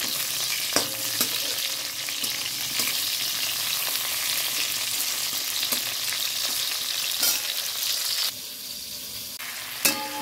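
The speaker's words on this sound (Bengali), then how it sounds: "পটল একটু ভাজা হচ্ছে" Continuous close sizzling of pointed gourd frying in oil with cumin seeds, with occasional clicks of a spatula stirring; the hiss drops slightly toward the end.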